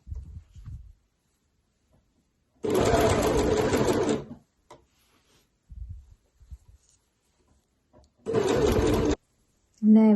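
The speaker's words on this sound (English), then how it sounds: "So that is now overlocked all the way around there" An overlocker serges around the sleeve head of a knit Agnes tee in two bursts of fast, buzzing whir, one longer and one shorter. Quiet shuffling and handling noises fill the gaps.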